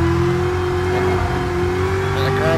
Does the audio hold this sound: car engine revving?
yes